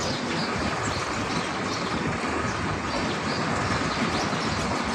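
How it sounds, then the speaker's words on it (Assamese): The long Brahmaputra Mail rolls through Nalbari railway station heading toward Delhi, a continuous heavy rumble of wheels and carriages close by, steady and loud with no pause or voices. "এয়া গৈ আছে ট্ৰেইন"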